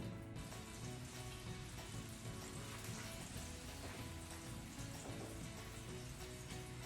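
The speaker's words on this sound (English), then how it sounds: "I hear that the butter is almost ready, so I'm gonna put the meatballs in." Steady, dense sizzling of meatballs frying in butter in a pan, a soft continuous crackle with no talking.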